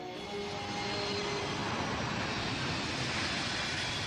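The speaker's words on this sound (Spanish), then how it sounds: "Los aviones vuelan tan bajo que a veces es imposible oírse uno mismo." A low-flying airplane passes near Rome Fiumicino airport, its engine roar swelling into a loud, broad, steady rush that fills the whole stretch with no talk.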